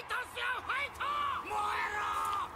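Animated boxing-match crowd cheering on Takamura in Hajime no Ippo, a dense roar of yelling and whooping voices with rising shouted calls, sustained and loud throughout.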